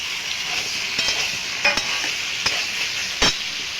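Spice paste for a country-chicken curry sizzles in a pan as it is sautéed, a steady hiss broken by a few scraping stirs of the spoon, with no voices.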